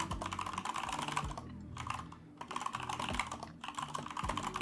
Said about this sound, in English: Forgive me, the typing noise is gonna bother you.